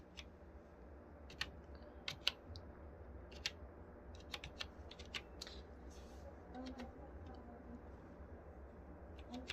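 A computer keyboard is typed on while working in Excel, producing sparse, light key clicks in short irregular bursts over a quiet room hum, with no voice.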